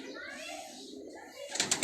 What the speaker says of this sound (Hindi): वो ये कुंडे के कबूतर हैं।